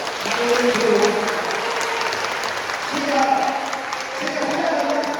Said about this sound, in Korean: 뜨거운 박수와 함께